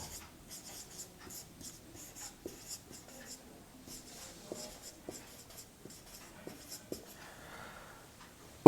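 Chalk or marker writing on a board during a complex-numbers maths lecture: a run of faint, rhythmic taps and scratches of short strokes spread across several seconds in a quiet room.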